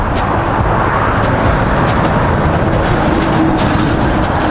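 A lifted truck with a teal McGaughys lift kit drives by, giving a loud, steady roar of engine and road noise that holds at close range throughout, with no talk over it.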